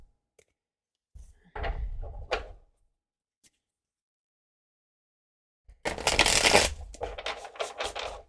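Tarot cards being shuffled by hand, with a short burst of riffling near the start and a longer, louder flurry of card noise toward the end, separated by a quiet pause.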